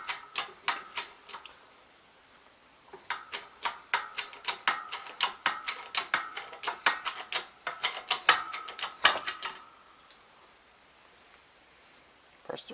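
Planetary gear bushings from a 1967 Gravely 430 being pressed out with a 5/16 bolt in a shop press, heard as rapid sharp metallic clicks and ticks in bursts with short pauses, close and fairly quiet.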